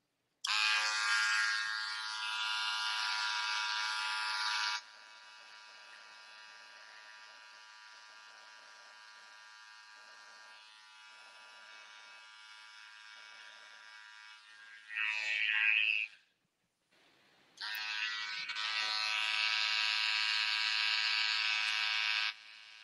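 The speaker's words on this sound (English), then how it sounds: "Now what I'm using is the Cordless Detailers LI, and these come very sharp, so you gotta be careful when you're using these trimmers." A cordless Detailer LI hair trimmer buzzes steadily while cutting a man's textured hair, running in long loud stretches with brief stops and a short gap before starting again.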